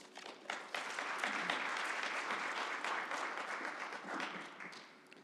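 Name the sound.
audience applause welcoming a speaker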